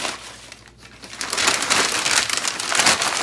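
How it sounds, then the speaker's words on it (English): Packing paper crumpled into a ball by hand makes a close, dense crackling and rustling that starts softer and swells into a loud, continuous crunch. "I like to use this, this is packing paper, and give it a good crumple up into a ball."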